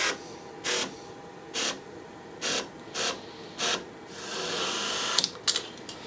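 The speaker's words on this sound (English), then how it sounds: "you can clearly see that the motor's working" Repaired BMW mechanism's small electric motor runs in short, regular whirring bursts, about five evenly spaced pulses close by, followed by a longer buzzing run that ends in a few clicks and clatters.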